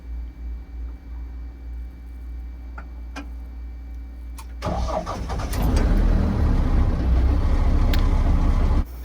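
Diesel engine of a Mahindra Roxor cranks and catches, starting right up into a loud, steady idle after a few seconds of quiet ticking from the glow plug grid heater and fuel pump.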